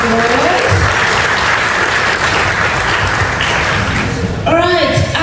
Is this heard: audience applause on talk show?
yes